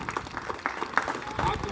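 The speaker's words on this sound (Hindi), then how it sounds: "जोरदार ताली बजाओ इनके लिए।" An audience at an Independence Day speech event claps together in a dense, steady burst of applause that fills the whole moment.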